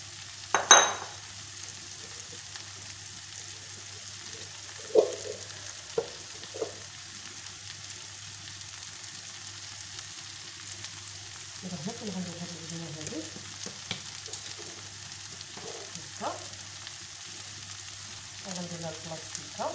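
Hot oil sizzles and crackles in a pan while pizza dough is being prepared, a steady faint frying hiss with a few louder pops and clinks of utensils, and no talking.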